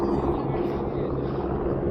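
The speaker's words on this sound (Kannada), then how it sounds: "ನೋಡಿ ಇನ್ನೊಂದು ಹೆಲಿಕಾಪ್ಟರ್ ಬಂತು." A helicopter arriving at the Kedarnath helipad gives off a dense, continuous rotor and engine roar that stays loud and close throughout the short stretch.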